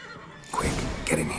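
A horse in a stable whinnies in The Witcher 3, a short loud neigh bursting out after a quiet moment, close by, with game audio and a voice around it.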